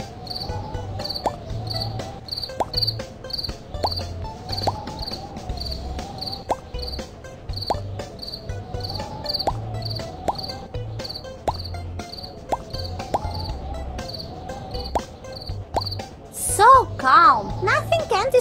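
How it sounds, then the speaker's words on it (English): Cartoon crickets in a kids' camping game chirp at night in a forest, a regular repeating high trill pulsing steadily throughout, with a short burst of game sounds near the end. "Everybody's sleeping, but crickets disturb them."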